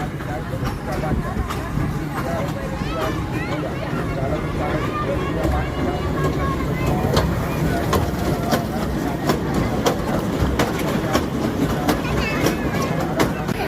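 A small toy ride train at a fairground rumbles steadily with faint rhythmic clicking, while crowd babble fills the background.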